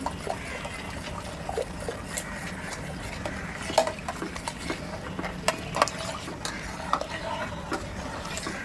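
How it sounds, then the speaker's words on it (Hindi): Fresh cream is stirred into a pot of broccoli soup, producing soft liquid swishing with scattered light clinks of a spoon against the pot, close and fairly quiet. "क्रीम को अच्छे से इसके अंदर मिक्स करेंगे"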